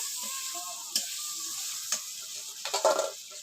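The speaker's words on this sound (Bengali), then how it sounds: "এই দেখুন চিংড়ি মাছগুলো ভাজা হয়ে গিয়েছে" Prawns fry in a pan for a Bengali coconut prawn dish, with a soft steady sizzle broken by a few sharp spatula scrapes and stirs near the end, close by and without talking.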